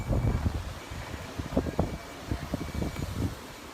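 Strong gusty wind buffets the microphone outdoors at a lakeside holiday park near Chichester, with uneven, rumbling bursts of noise throughout.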